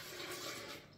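Water pours steadily onto a cup of cashews in a Vitamix blender jar, a continuous rushing splash at moderate level with no talking.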